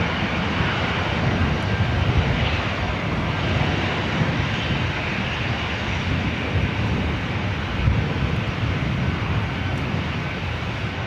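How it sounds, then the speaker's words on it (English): An Emirates Airbus A380 arriving at LAX produces a loud, steady roar of jet engines that fills the whole stretch without letup, with no talking over it. "Be followed by the Emirates A380 Super,"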